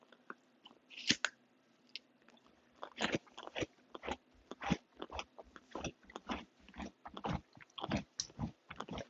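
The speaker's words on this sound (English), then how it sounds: "I don't like chewing and talking at the same time." Close, crisp crunching and chewing of apple slices topped with peanut butter and quinoa crispies, many irregular bites and chews in quick succession over quiet background, no talking.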